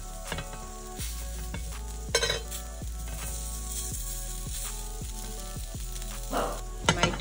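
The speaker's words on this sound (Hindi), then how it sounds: "थोड़े से ड्रॉप्स मैंने देसी घी के लगाए हैं यहाँ पर एंड ये रही हमारी टिक्की" A tikki sizzles in a few drops of desi ghee on a hot tawa, a steady close frying hiss with occasional soft scraping and clinks of a spatula, no talk.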